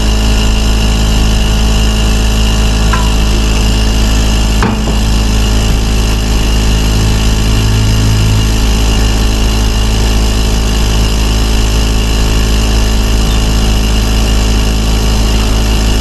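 A vacuum system runs during silver nitrate work, a loud steady mechanical drone with a sharp knock near the start and a brief tonal hum partway through, no voices.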